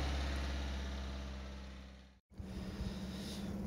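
A Volvo S40 engine, with a power loss fault, hums loudly and gradually winds down, cuts out briefly, then resumes at a lower, rougher idle.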